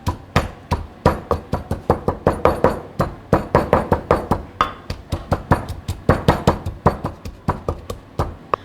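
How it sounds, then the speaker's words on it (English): Dried shrimps pounded in a mortar for Cambodian papaya salad: a steady run of sharp, close thuds, roughly two or three per second, each strike distinct and loud. "And then we're going to pound this."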